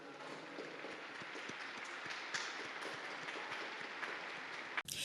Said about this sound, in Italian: Un applauso al nuovo beato.